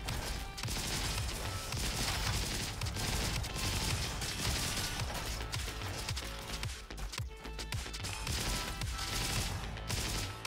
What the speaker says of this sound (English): Oh, it was just the cannon.